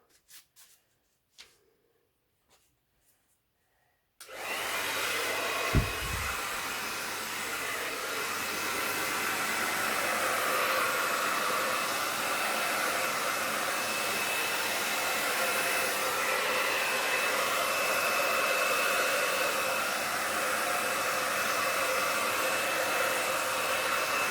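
A few quiet seconds with faint clicks, then a hair dryer switches on and blows with a steady, loud, close whooshing roar until the end, used on an acrylic pour painting.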